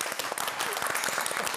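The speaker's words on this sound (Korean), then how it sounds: "박수 한번 쳐주십시오." Studio audience at a Korean art television show clapping together, a dense, steady burst of applause, loud and close, lasting briefly with no voices over it.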